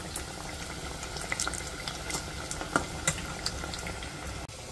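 Burger tikki patties sizzle in a pan, frying to a golden crisp, with a steady low crackle and scattered small pops, fairly quiet and close, with no voices.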